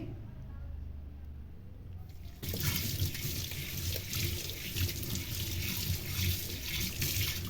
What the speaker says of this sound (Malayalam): ഇനി വെള്ളം ഉപയോഗിച്ചൊന്ന് കഴുകി നോക്കാം നമുക്ക്